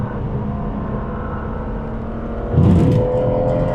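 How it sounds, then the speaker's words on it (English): Aston Martin DB9 with its 6-litre V12 engine pulling hard in fourth gear, a steady loud engine drone heard from inside that swells into a stronger surge near the end. "6 litre V12 engine"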